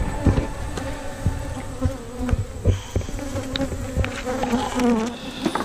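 Honey bees swarm around a hive being relocated, a dense continuous buzzing close by with individual bees droning past, plus occasional knocks and handling noises.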